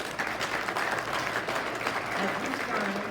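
An audience applauds at an elected officials' event, a dense, steady wash of many hands clapping throughout, with voices mixed into it.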